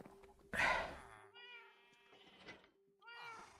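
A house cat meows loudly twice, a sharp drawn-out cry followed a moment later by a second, softer call, heard close up in a quiet room.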